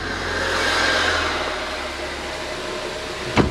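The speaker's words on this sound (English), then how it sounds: "It's running pretty good. The engine sounds good." A rebuilt Ford Focus ST engine idles steadily up close, a smooth mid-pitched hum with a slight swell early on, ending in a brief sharp knock.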